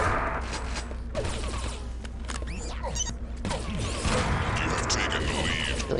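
Gunfire from the video game Quake 3 Arena: a dense, continuous stretch of rapid weapon fire and mechanical clatter over a steady low hum, with sharp cracks and whines scattered throughout.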